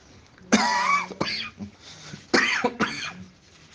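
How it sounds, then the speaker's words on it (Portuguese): Two bursts of dry, rasping coughing from a man with a cold, each a cluster of short hacks close to the listener, separated by a brief quiet pause. "Eu tô com essa tossinha chata. Tossinha de friagem, viu, irmãos?"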